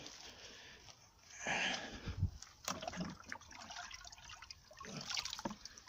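Water is poured into a DIY bucket ceramic filter in a few separate splashing, trickling bursts, close by and fairly quiet between pours.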